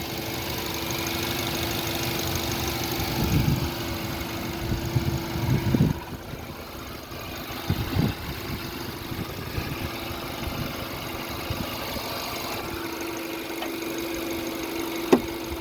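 A 2008 Suzuki Jimny 1.3 timing-chain engine idles steadily nearby with a low, even hum and faint ticking, broken by a few light clunks and knocks.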